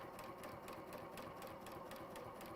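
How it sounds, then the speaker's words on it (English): Sewing machine stitching along a marked seam line, a quiet, even, rapid needle pulse running continuously and alone at close range. "I'm stitching on that line"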